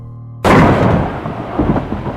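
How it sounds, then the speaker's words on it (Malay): Thunder breaks outside during a night storm: a sudden loud crack followed by a heavy rolling rumble that slowly fades over about two seconds, with no voices. "Langit mula berpetir di luar."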